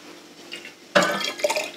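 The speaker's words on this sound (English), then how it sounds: "So I can put my water in here" Water poured into a container from a calcium chemistry demonstration, starting abruptly with a close, splashing pour and bright liquid trickling that continues to the end.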